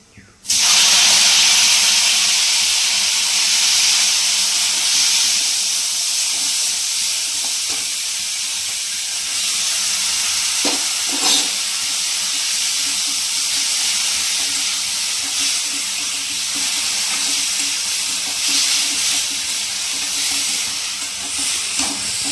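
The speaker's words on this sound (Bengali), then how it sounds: "তেলটা গরম হয়ে গেছে এরপর আমি আলুটা ছেড়ে দেবো" Potatoes dropped into hot oil for aloo posto, giving a sudden loud burst of sizzling that settles into a steady, close hiss of frying for the whole stretch, with faint stirring clicks and no talking.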